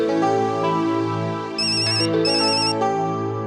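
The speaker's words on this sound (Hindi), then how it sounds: "किसका फोन है?" A mobile phone ringtone plays loud and close, a steady tonal melody that runs throughout, with a brighter chiming passage in the middle. There is no talk over it.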